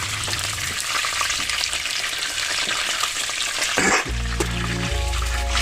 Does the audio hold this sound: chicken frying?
yes